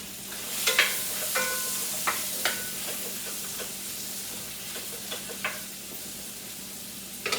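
Zucchini sautéing in a pan is stirred with a steady sizzle, spatula scrapes and knocks breaking through at irregular intervals, close and moderately loud with no talking.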